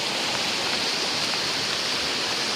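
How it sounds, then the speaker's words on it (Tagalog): Strong floodwater after a whole night of rain rushes across a road instead of its proper channel, a steady, close, full roar of churning water with no voices. "Napakalakas po ng tubig kasi imbis na dumaan sa tamang daanan ay dito na nakadaan yung tubig."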